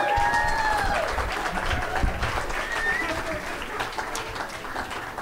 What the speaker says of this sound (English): Let's get another round of applause for Suzanne Schmidt.